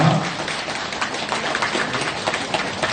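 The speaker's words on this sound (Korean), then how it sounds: "우리와 같은 박수 부탁드립니다" An audience at a Buddhist temple gathering claps during a flower presentation, a dense, even wash of applause heard from a distance for a few seconds with no speech over it.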